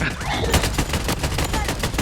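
Rapid bursts of automatic gunfire from the video game BloodStrike, closely spaced loud shots in quick succession with overlapping reports, filling the short span almost continuously.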